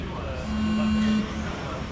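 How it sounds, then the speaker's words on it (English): A steady electronic start tone for a 1/12 scale 13.5 RC car race at an indoor championship, held for roughly three-quarters of a second over a loud hall-wide hum and background chatter. "Sound of the start tone."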